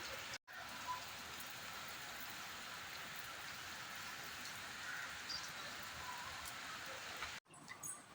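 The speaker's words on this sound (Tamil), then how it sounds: "நல்லா மழை பெஞ்சிட்ருக்குங்க, கொட்டுது" Heavy monsoon rain pours down outside a house in a dense, steady hiss that fills the whole stretch, with brief dropouts near the start and end.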